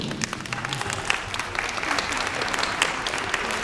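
An audience at an anniversary gathering of a spiritist association applauds, many hands clapping in a lively, uneven patter with a few sharper individual claps standing out.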